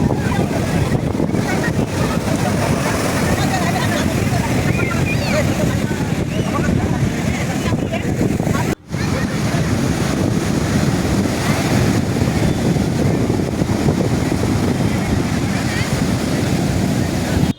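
Sea surf rolls in at Berhampur beach in Odisha, where people are bathing. It is a loud, continuous, close roar, heavily buffeted by wind on the microphone, with muffled voices underneath and a brief dropout midway.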